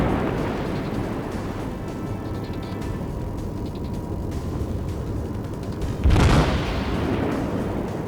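Naval guns in World of Warships: a constant low battle rumble, then one heavy, close boom near the end.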